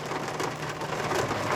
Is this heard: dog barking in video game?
no